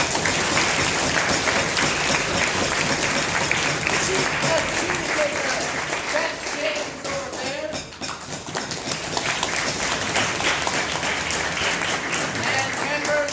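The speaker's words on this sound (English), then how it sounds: "let's give a huge round of applause to our CAP" Loud, sustained applause from a crowd at a debate tournament closing ceremony fills the room for the full stretch, with a brief dip midway and dense clapping throughout.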